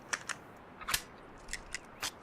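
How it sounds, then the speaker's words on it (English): Rifle reloading in a deer hunting video game: a few quick, crisp metallic clicks and snaps spaced across two seconds, fairly faint and heard alone with no talk. "Oh, and he's reloading."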